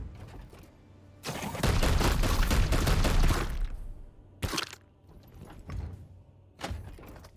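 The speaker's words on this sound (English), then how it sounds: "Yeah, let's just do a couple regular shots." Gunfire in Warhammer 40,000: Chaos Gate - Daemonhunters: a loud, rapid burst of shots lasting a couple of seconds, followed by several separate sharp cracks and impacts spaced out over the rest.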